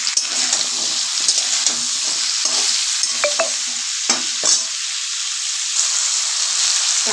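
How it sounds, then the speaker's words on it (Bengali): Ilish fish head and pumpkin with a little turmeric being stirred in a pan: a continuous close sizzle broken by repeated scraping and clinking spoon strokes against the pan, with no one speaking. "একটু নাড়াচাড়া করে দেবো। হলুদ দিয়ে দিলাম অল্প করে।"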